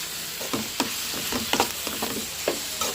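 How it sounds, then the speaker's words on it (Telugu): Shredded cabbage fries in a pan with turmeric and salt, a continuous sizzle broken by regular scraping stir strokes about twice a second, close and fairly loud, with no voices. "బాగా ఫ్రై అయిపోవాలి"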